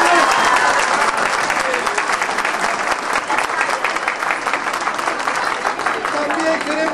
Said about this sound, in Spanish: ¡Palmas para ellos!